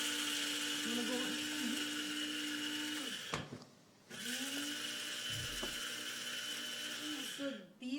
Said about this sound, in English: So I'll just do the coriander right now in the coffee grinder.